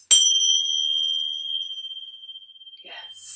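A single bell strike opens a yoga session: a bright, clear ring that sustains and slowly fades over a few seconds, with a voice starting to speak near the end.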